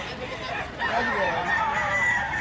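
A large gamecock at a rooster market in Lipa, Batangas crows in a loud, drawn-out call close by, with crowd noise and voices around it.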